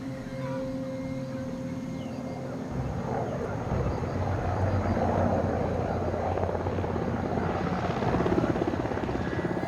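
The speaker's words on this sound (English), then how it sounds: "I think I can hear something. And then I see a tiny dot of a helicopter." A distant helicopter draws closer in a remote wilderness, its rotor chop rising gradually from a low, steady rumble to a fuller, louder thrum with no voices over it.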